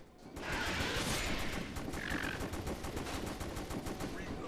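Rapid, sustained gunshots fire continuously in House of the Dead Overkill, a dense rattling stream of shots that stays loud and close for several seconds.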